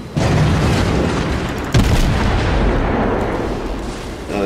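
Naval guns firing shells in the World of Warships video game, a heavy booming volley that rolls on as a loud sustained rumble, with a second sharp blast partway through.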